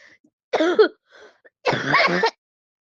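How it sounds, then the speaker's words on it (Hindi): Two close, sharp coughs separated by a brief pause, the second longer and rougher, with a faint throat sound between them. "और ये खाँसी भी हो गई।"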